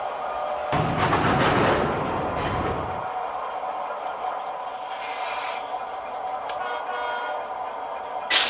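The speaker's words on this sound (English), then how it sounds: "We'll spot this hopper on yard 1 for now, and then couple to it with the rest of our train." A model train shoves a salt hopper car into a yard, rumbling and clattering loudly for a few seconds, then easing into a quieter steady running hum, with a sharp clank at the end.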